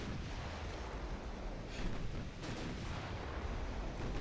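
Main battery guns of a warship firing at a destroyer in the naval game Ultimate Admiral Dreadnoughts, dull booming blasts rolling over a constant low rumble of battle noise.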